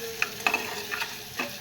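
Salted tomatoes softened in a pan are stirred with a few soft scraping strokes, a quiet sizzle running underneath.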